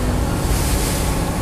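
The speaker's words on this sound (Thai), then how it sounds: "เพื่อนๆได้ยินเสียงคลื่นไหมคะ" Loud rushing waves and surf from a boat's wake on the Chao Phraya River, dense and continuous, with wind buffeting the microphone.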